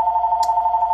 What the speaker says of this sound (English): It's really loud. I'm sorry if you hear that loud phone.